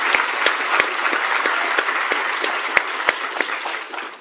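Steady applause from a large audience at an evening lecture-series event, a dense wash of clapping with a few sharper, louder claps standing out, sustained throughout without voices.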